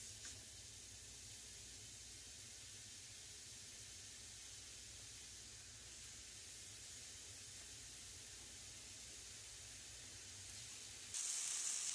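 Sausage patties sizzle steadily in a pan, a continuous broad hiss that holds level throughout with no talking.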